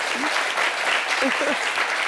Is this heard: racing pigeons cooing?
no